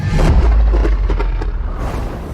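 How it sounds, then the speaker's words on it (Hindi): A deep, loud booming blast with a low rumble that rolls on and slowly fades, followed by a few scattered crackling thuds. "इसी समय एक कर्णभेदी धमाके की आवाज सुनाई दी।"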